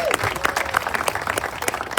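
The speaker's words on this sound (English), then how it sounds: "Give her a big round of applause." An audience at a tax services opening-day kickoff event applauds in a dense, steady burst of clapping, with a faint voice mixed in.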